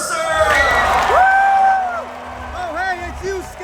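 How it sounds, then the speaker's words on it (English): A crowd cheers and whoops loudly, rising voices and shouts blending with some clapping before settling into scattered calls. "give a round of applause, to Matt Mercer!"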